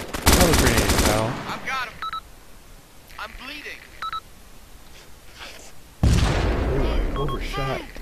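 Arma 2 video game combat, with a grenade blast and gunfire: two loud, crackling bursts at the start and the end, separated by quieter stretches of talk and a few sharp beeps.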